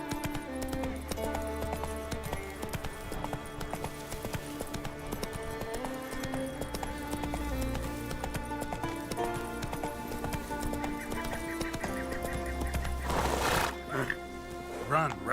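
Hooves of a horse galloping in the video game The Witcher 3, a steady clip-clop rhythm with a brief whinny, heard under music and game sounds.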